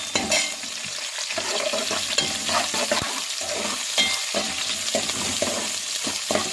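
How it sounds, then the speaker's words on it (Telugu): Vegetables for veg biryani frying in a pan, a continuous close sizzle with regular scraping strokes of a stirring utensil. "ఒకసారి కలుపుకుందామండి."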